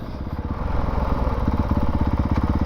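A 2019 Honda CRF450L dual-sport motorcycle engine running hard at speed, a steady loud pulsing drone with rapid regular firing beats, close and continuous throughout.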